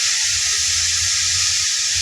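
Kurinja leaves stir-fried gently in a pan make a loud, steady, close-up sizzling hiss that continues without a break.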